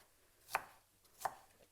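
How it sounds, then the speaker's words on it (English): A knife chops vegetables into a small dice on a cutting board: two crisp, isolated thunks about three-quarters of a second apart, close and fairly quiet, with nothing else audible around them. "just turn it the other way and run your knife"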